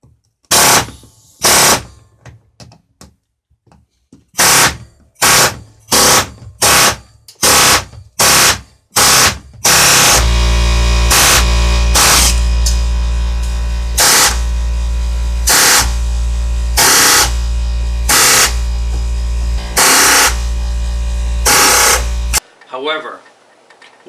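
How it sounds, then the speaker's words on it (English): An air chisel cutting out a rivet, fired in short loud bursts at first and then in long sustained rapid hammering runs, with a pause at the end. "use the chisel portion to remove the rivet itself"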